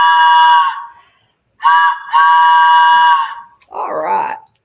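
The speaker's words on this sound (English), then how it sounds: "This blast is for you on the train whistle." A loud train whistle sounds in several long, steady blasts with brief gaps, close and piercing, followed by a short wavering tone at the end.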